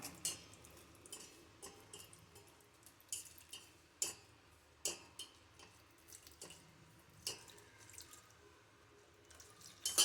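Water is poured into porridge flour and stirred quietly, with soft intermittent splashes and light clinks against a container. The sound is faint and close, with no voices.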